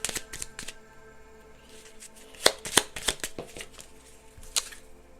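Small tarot cards being handled and shuffled close by, with quick papery riffles and flicks at the start, then a few sharper snaps and slaps of cards as the deck is squared, fairly quiet with no talking.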